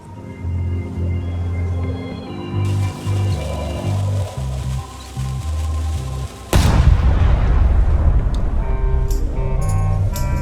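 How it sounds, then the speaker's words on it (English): Cannon firing in the video game Return to Monkey Island, a sudden loud boom that breaks in midway and leaves a long rumbling roar, preceded by game music. "Ready for cannon firing."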